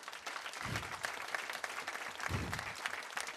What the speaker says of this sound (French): Oui, vous pouvez les applaudir.